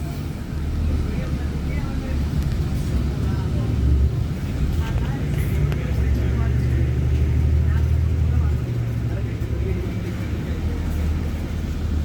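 Inside a 2020 hybrid city bus driving through Montreal streets after a snowstorm, a steady low engine and road rumble fills the cabin, swelling and easing with speed, while a voice talks over it.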